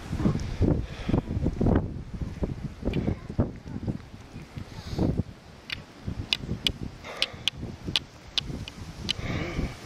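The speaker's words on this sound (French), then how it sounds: "Écoute, le vent. Ça souffle, hein." Wind gusts rumble against the microphone in uneven bursts, with faint ticking and rustling sounds in the background.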